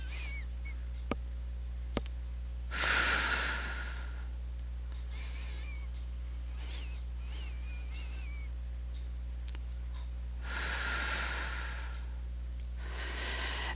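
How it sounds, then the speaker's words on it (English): Breathing in through one nostril with the other side plugged: two soft, airy inhalations several seconds apart, close and quiet against a steady low hum. "just plugging up one side and breathe in through this one."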